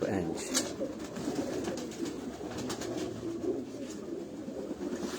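Golden pigeons kept at a home loft coo softly and steadily against a murmur of background noise, with people talking close by throughout.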